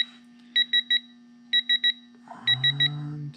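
A digital torque wrench set to 65 foot-pounds beeps while tightening bolts on a C10 rear differential: three crisp groups of three quick electronic beeps, the last group over a low mechanical rumble.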